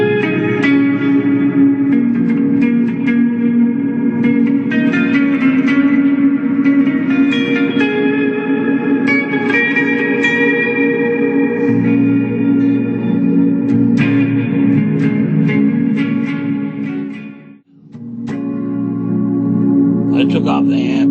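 Electric guitar through a Line 6 Pod Go on its Inner Space reverb setting, loud sustained chords and notes ringing out in a long shimmering wash, briefly cut near the end before resuming.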